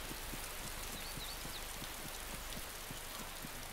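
Steady rain in the video game DayZ falls as a dense, even hiss of drops on surfaces, faint and continuous throughout the short stretch with no voices.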